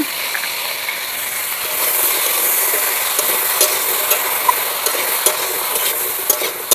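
Flat beans with turmeric and salt frying in a little oil in a pan, a loud, steady sizzle up close with scattered scraping and clicking from stirring, and no one speaking.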